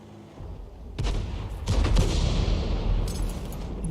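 A single loud gunshot rings out in a military shooter game, followed by a second heavy report with a lingering rumbling tail over steady background noise.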